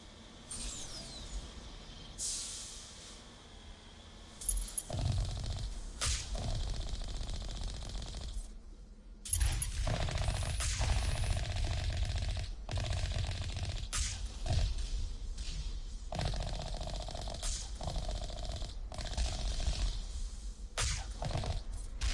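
Gunfire in Mass Effect rattles out in bursts against turrets, with sharp repeated shots, heavy impact booms and a persistent mechanical hum, loud and dense through most of the stretch with brief pauses.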